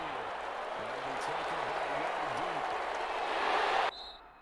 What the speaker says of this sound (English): let's adjust this audio because the crowd is super loud